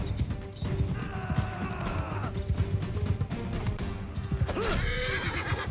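A horse neighs and whinnies amid clip-clopping hooves during a chaotic video game battle with attacking soldiers, the hoofbeats busy and close with a sharp whinny near the end.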